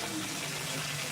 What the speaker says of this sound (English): So I'm gonna fill this up with water.